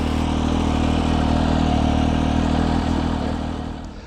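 Close, loud, sustained revving from a 2003 Benelli Tornado Tre 900 Limited Edition motorcycle engine, a rich throbbing drone held steady before easing down at the very end.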